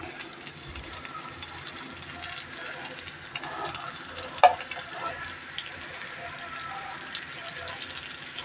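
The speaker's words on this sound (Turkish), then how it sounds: "Balık kızartacağım hamsi." Anchovies crackle and sizzle in a hot pan, a steady frying hiss with occasional pops, close by.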